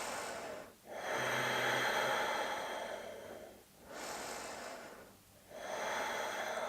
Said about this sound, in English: Take 2 more deep breaths here.